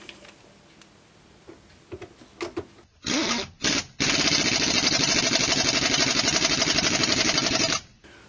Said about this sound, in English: Thing with this particular screwdriver is it doesn't have like a torque setting, so I can't reduce the torque on it.